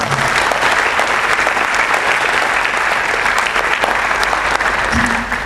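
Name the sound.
audience applause for prize winners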